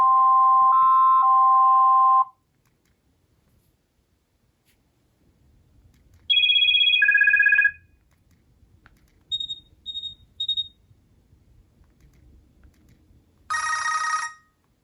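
A 2008 Motorola RIZR Z12 prototype phone plays several ringtones in turn: a two-tone electronic ring, a descending melodic chime, a few short high beeps, then a brief bright bell-like burst, separated by quiet gaps.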